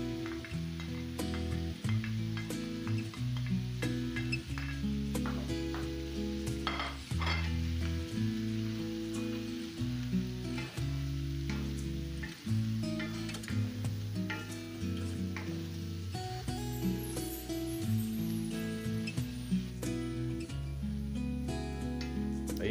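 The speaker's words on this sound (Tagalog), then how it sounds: "ilalagay na natin ang ating bawang tsaka luya mga partners" Garlic and ginger sauté in a pan for chicken adobo with coconut milk, giving a steady soft sizzle and occasional stirring scrapes beneath prominent rhythmic background music.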